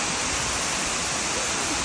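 A waterfall roars in a broad, steady rush of water, loud and close, filling the whole moment without a break.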